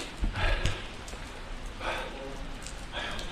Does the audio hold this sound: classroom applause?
no